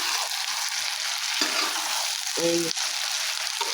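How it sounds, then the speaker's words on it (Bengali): Beef being stir-fried in a pan for Bangladeshi kala bhuna gives a steady, loud sizzling hiss with scraping stirs, briefly interrupted by a short spoken word. "এবার আরও কিছুক্ষণে গোশগুলোকে কষিয়ে নেব।"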